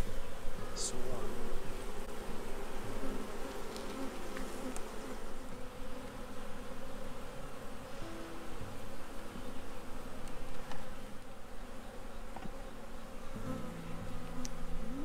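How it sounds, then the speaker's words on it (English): Steady dense buzzing of a honeybee swarm being moved into a hive with old comb, close and continuous throughout with no voices. "So here's the swarm."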